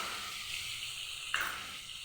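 Spice paste with chopped ginger and turmeric frying in a pan, a continuous close hissing sizzle with a brief stir or scrape partway through.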